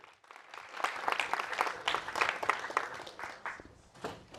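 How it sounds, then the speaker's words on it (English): Audience at a tech meetup claps for an incoming speaker, a dense round of applause from a room of people lasting a few seconds and tapering off near the end, with no talking over it. "give a big round of applause for Greg."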